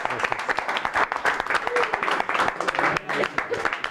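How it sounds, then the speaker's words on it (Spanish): Audience applause at a 25th anniversary celebration: dense scattered clapping from a crowd, moderately loud and steady for several seconds, with a few voices and cheers mixed in. "Raúl Guevara, para él mi aplauso y para la señora Marilú de Hey"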